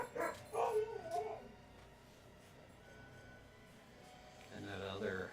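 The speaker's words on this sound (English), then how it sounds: "I hear my female dog making puppy yipping noises" A female husky gives soft, high-pitched puppy-like yips and whines indoors, faint bursts at the start and again near the end, with a quiet room in between.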